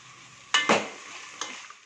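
Shallots sautéing in a pan with Kashmiri chilli and salt for Kerala beef curry: a soft sizzle under a few sharp scraping stirs of a utensil against the pan, close and brief.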